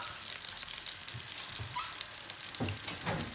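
Pork chops fry in a pan with a steady, close hiss and crackling sizzle, with occasional soft pops and no talking.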